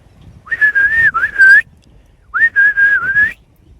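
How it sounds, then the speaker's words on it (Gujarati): A person whistles to call animals on a farm at Jamkandorna, Gujarat, giving two loud, close, warbling whistles, each lasting about a second, separated by a short pause. "તો ખાલી એક સીટી પાડું ને એટલે બે આવી જાય."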